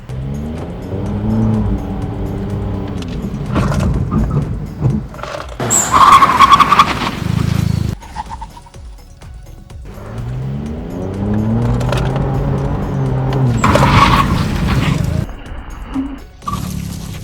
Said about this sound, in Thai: ใช้วิธีการเบรกอย่างรุนแรงก็จะเห็นว่าระยะเบรกเนี่ยสั้นลง